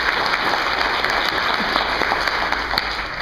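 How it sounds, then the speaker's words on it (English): Sustained, dense applause from an audience at an industry awards breakfast, steady and fairly loud throughout with no voices standing out. "let's give them another round of applause"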